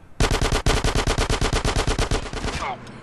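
Rapid automatic gunfire in a drive-by shootout in GTA San Andreas, a loud, evenly paced burst of about twenty shots lasting over two seconds before cutting off.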